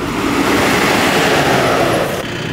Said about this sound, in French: Ah, le camion d'épandage.